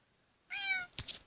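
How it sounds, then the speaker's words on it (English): A single short cat meow from a cat simulator video game, clear and close, followed by a brief soft chirp-like sound. "I want a meow."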